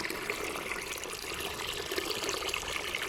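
Water stirred and sloshed in a large bucket while mixing a garden treatment against powdery mildew, a steady close trickling and swishing that runs unbroken for about three seconds with no voices.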